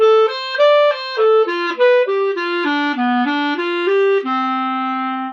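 Solo clarinet runs through a short jazz 2-5 phrase, a string of even notes descending and settling on a long held low tone at the end.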